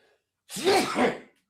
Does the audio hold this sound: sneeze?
yes